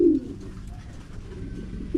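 Pigeon cooing inside a pigeon loft, a low, throaty coo rising at the start and returning at the end, close by over a steady background hum, with no voices.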